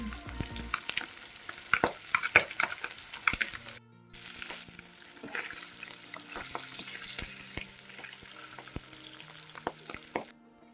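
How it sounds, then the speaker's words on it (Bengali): Singi fish frying in oil in a kadai, a steady crackling sizzle with scattered pops and stirring scrapes throughout, close and moderately loud with no talk. "তো মাছগুলো ভাজা হয়ে গিয়েছে বন্ধুরা তো এখন নামিয়ে নিচ্ছে দেখুন"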